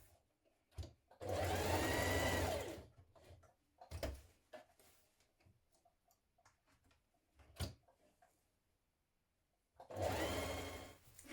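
A sewing machine stitches a trouser waistband made from the Vogue 9361 pattern, in two steady whirring runs of about a second and a half each, separated by quiet handling clicks and rustles.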